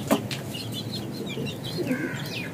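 A pet female pigeon at home gives faint, soft coos and chirps, with a light flutter, quiet and slightly distant, with no talk over them.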